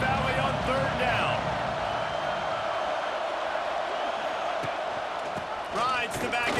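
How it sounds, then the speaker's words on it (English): A big stadium crowd at Happy Valley roars on third down in EA Sports College Football 26, a sustained loud swell of noise with play-by-play commentary talking over it. "Here comes the noise from this big crowd in Happy Valley on third down."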